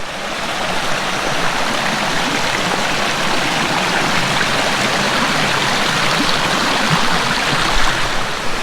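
Steady rushing water pours over rocky rapids by a forest waterfall in the rainy season, a continuous loud broadband roar with no voices.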